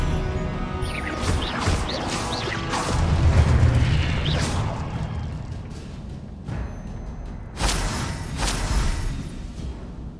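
Confringo blasting spells from Hogwarts Legacy go off as deep booming explosions with crackling debris and whooshes, several bursts layered over one another, loud and close, with no voices.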